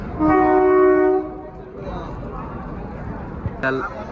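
A train arrives at a railway station, opening with a loud sustained horn blast followed by a lower rumbling of the rail cars, and a brief sharp clank near the end.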